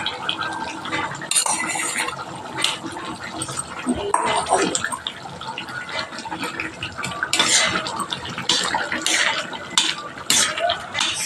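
Mutton liver fry with gongura leaves stirred in a pan, a spoon scraping and clinking against the metal in irregular bursts, with kitchen clatter and some voice underneath.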